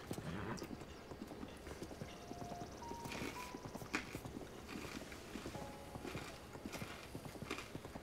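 Horse hooves clip-clop in a steady trotting rhythm in the video game Zelda Breath of the Wild, close and moderately loud, with faint game sounds and chimes around them.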